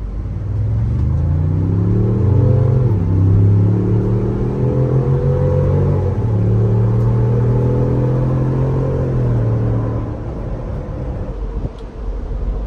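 An RV's 2.7-liter engine revs up at full throttle, its droning pitch climbing and shifting through gears, loud and steady throughout before easing off near the end.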